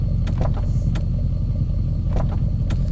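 Licensed Land Rover SUV in the video game Driving Empire cruises with a steady low engine rumble, overlaid by a few light clicks and taps.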